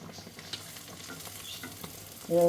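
Pathiri frying in hot oil, a steady soft sizzle and bubbling with faint stirring scrapes throughout, ending in a louder burst of sizzle near the close.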